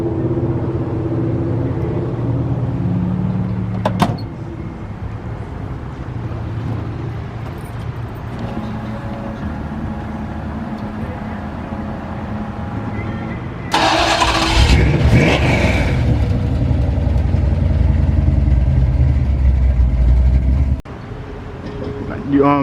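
A custom 1969 Ford F100 hot rod truck idles with a low rumbling engine under talk, then fires up louder with a burst of revving and a deep, steady roar before cutting back.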